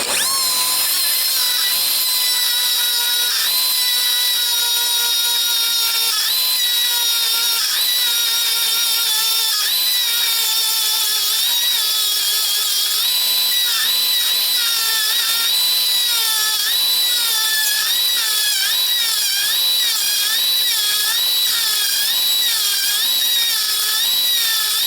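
A small 1/8 inch die grinder runs steadily at high pitch with a shrill, wavering whine that rises and dips as it is loaded, continuous and close for the whole stretch with no talk.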